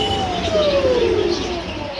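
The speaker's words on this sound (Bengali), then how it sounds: "এখানে সিলভারের কবুতর আছে, এখানে বাচ্চা আছে" A pigeon coos close by at a bird shop, one drawn-out call sliding downward in pitch over a steady background hum.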